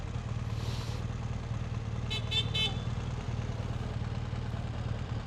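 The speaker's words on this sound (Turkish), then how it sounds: "Kim kime niye korna çalıyor arkadaş?" A few short car horn toots sound in quick succession over a steady rumble of traffic and engine noise, heard from a BMW R1200 GS motorcycle.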